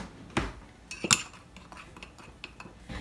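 A spoon clinks against a mug while stirring chocolate mug cake batter, with two sharper knocks early and lighter scrapes and taps after, close and quiet, with no talk.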